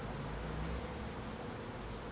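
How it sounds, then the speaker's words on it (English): Honeybee swarm clustered in a pine tree outdoors, giving a steady low droning buzz that holds evenly throughout without any talk. "It looks like there's three clusters of bees."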